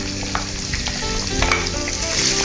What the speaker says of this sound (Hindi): अब इस पेस्ट को हम इस ऑयल के अंदर डाल के भूनते हैं।